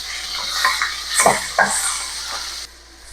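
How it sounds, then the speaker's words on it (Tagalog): Onion, garlic and ground pork sautéing in a hot pan, a bright hiss of sizzling broken by a few stirring scrapes and utensil knocks against the pan, close, ending in a quieter tail. "Mag-gisa na tayo ng sibuyas bawang at gilingin"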